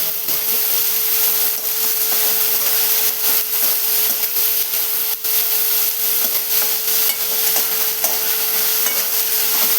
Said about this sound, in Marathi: मी याच्यामध्ये मटकी टाकून घेतलेली आहे. थोडी साखर तेलामध्ये असं भाजून घेणार आहे